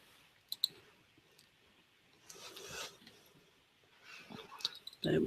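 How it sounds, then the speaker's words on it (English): A few sharp computer mouse clicks, close and quiet, with soft rubbing and handling noise between them and a louder rustle at the end. "So we'll click on there."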